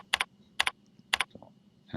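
Three quick bursts of computer keyboard typing, each a short cluster of crisp key clicks, close and fairly quiet with brief pauses between.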